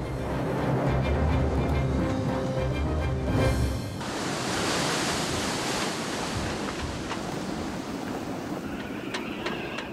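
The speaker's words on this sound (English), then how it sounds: "Some days it brings force 8 winds and a rough sea" Rough sea under a strong Meltemi wind off Crete, force 8 gusts roaring loudly and continuously with heavy surf crashing close by; a deeper rumble gives way to broad, hissing wave and wind noise.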